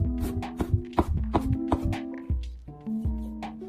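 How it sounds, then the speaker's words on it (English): Peeled ginger being minced with a knife, a series of quick, uneven chops on a cutting board, close and moderately loud, with steady tonal background music underneath. "Finally, chop it into minced ginger."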